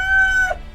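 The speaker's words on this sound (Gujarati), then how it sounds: "ત્યાં જ કુકડે કુક કરતો કુકડો બોલ્યો" A rooster gives a brief, loud, close cock-a-doodle-doo crow, a single bright sustained call that cuts off abruptly.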